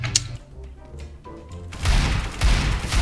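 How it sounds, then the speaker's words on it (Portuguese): Gunfire in the video game Counter-Strike: Global Offensive: a few sharp shots early, then heavier bursts of loud, blasting shots in the second half. "Dei um tiro nele."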